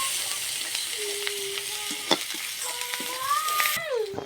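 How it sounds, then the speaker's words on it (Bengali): Chopped onion, garlic and green chilli are stirred in hot oil, giving a low steady sizzle with scattered scrapes and clinks of a spoon against the pan, plus a few brief squeaky utensil tones. "পেঁয়াজ কুচি রসুন কাঁচামরিচ সুন্দর করে নাড়াচাড়া করে নেই"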